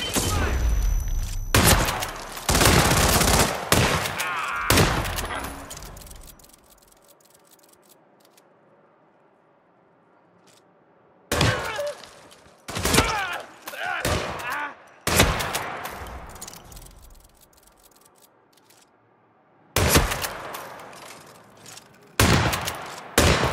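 Bursts of rapid gunfire and automatic weapon fire in the video game Hitman 3, set in a Marrakesh school area, arriving in loud clusters separated by quieter stretches of low ambient rumble.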